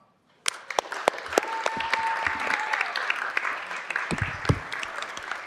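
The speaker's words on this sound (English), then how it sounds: "join me in recognizing Eric with a huge round of applause." A room full of people at a Los Angeles City Council meeting breaks into steady applause, with sharp individual claps standing out near the microphone and a few voices beneath.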